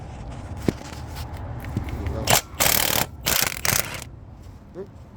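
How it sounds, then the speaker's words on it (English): An impact gun with a 19mm socket undoes cylinder head bolts on an overheated Land Rover Defender 300Tdi, giving one short rattling burst followed by three longer bursts in quick succession, close and loud. "I've got the gun on, 19mm socket. So I'm just going to undo the head bolts."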